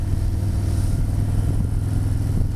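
A touring motorcycle with a batwing fairing, ridden during engine break-in and kept under 3,000 RPM, gives a steady loud low engine drone with wind rumble throughout and no talk.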